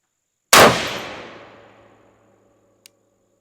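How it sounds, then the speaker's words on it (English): A single sharp rifle shot from a 6mm ARC rifle fired at a 100-yard target, loud and close, with a long rolling echo that decays over about a second and a half, followed by a faint distant impact tick. "All right, 5 shots, 100 yards."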